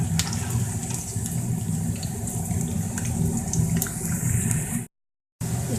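Garlic sizzling in four tablespoons of hot cooking oil for a moong dal tadka, a steady close crackling hiss with a low bubbling undertone that runs continuously before cutting out briefly near the end.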